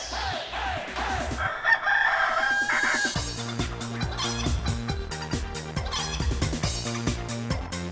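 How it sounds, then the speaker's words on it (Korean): A recorded rooster crows with long rising and falling calls in the first few seconds, then steady rhythmic, music-like backing sounds carry on to the end, played back in a classroom lesson. "자, 닭이 울음소리가 들리는데 여러분들에겐 어떻게 들리는지 한번"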